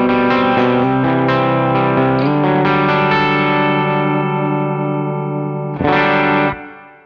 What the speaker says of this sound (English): Now, the more I dig in, the more you can hear the Fulton Webb breakup.